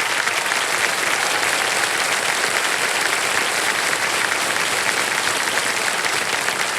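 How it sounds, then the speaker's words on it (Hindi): A studio audience on a television quiz show applauds a contestant who has just answered a hard question, producing a thick, even wall of clapping that holds at full strength from start to finish. "हाँ तालियां बज जाएं इनके लिए"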